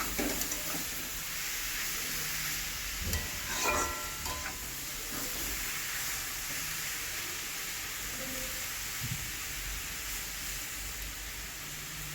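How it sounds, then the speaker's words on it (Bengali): Cabbage being stirred in a frying pan, a steady hiss of sizzling and steam running throughout with scattered soft scrapes and knocks of the spatula against the pan, close and without talk. "ঢাকনা খুলে আবার ভালো করে বাঁধাকপিটাকে নেড়ে নেব"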